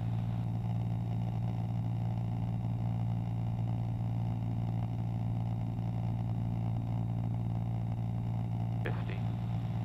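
Small airplane engine droning steadily at close range from inside the cabin during slow flight, a constant low hum that holds even with only a slight throttle increase.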